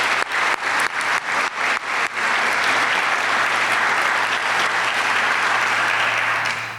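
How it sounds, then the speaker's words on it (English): Clapping breaks out at a clinician investiture ceremony honoring faculty, opening with a few distinct sharp claps before merging into sustained, even applause from a large audience that fades slightly at the end. "I would give them a round of applause myself"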